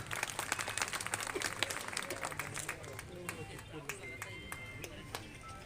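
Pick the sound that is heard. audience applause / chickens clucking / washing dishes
audience applause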